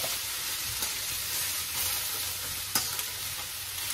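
Chicken and rice going into a hot pan, a soft steady sizzle of frying with faint stirring scrapes and a small clack near the end, fairly quiet and close, no talking.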